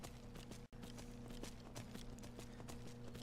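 Horse hooves clip-clopping in a steady rhythmic gallop while riding in the Skyrim Falskaar mod, fairly faint over a constant low hum, with one very brief dropout.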